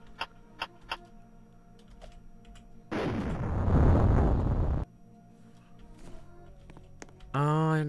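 A bomb exploding in a Roblox game, a loud sustained roaring blast lasting about two seconds, set between lighter clicks and game effects, with a rising tonal sound at the very end.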